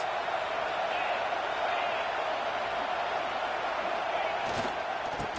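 A football stadium crowd roars steadily for the defense on a big third down, a dense, sustained wall of cheering that carries a broadcast commentator's voice over it.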